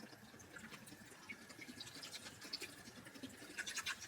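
Water splashes and trickles while a dyed Ghostbusters belt strap is rinsed, with soft close scratching and sloshing over a low running hiss.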